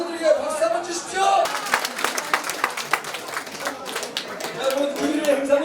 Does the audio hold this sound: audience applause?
yes